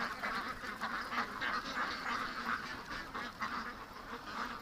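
Ducks quack steadily and fairly close in a pen, a dense overlapping chorus of nasal calls with some honking, continuing throughout with no talk.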